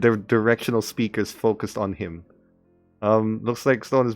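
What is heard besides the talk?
No everyday noises stand out.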